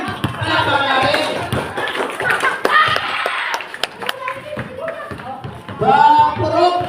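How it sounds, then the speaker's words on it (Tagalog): People clap for award-winning players after a barangay basketball championship game: a round of hand clapping mixed with talking voices, fading out and then giving way to more speech. "Palakpak natin."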